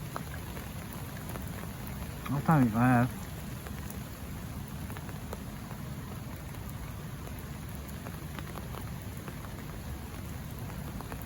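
Steady rain falls at a carp fishing lake, a constant close patter and hiss lasting the whole time, with someone briefly speaking under it.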